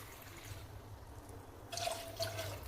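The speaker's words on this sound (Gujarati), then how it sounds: "જેટલી દાળ ઢોકળી જોઈએ એટલું પાણી કરી નાખીશું આપણે" Quiet room tone, then a short splash of about a glass of water poured into a pot of dal dhokli near the end, close and soft.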